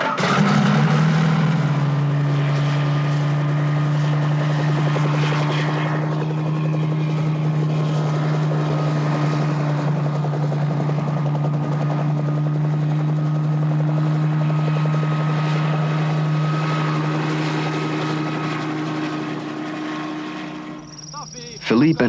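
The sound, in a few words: helicopter flying for aerial reconnaissance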